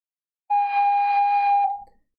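A single ocarina note on G, steady and pure, held for just over a second close to the mic before a quick breathy release, with silence on either side and no talk.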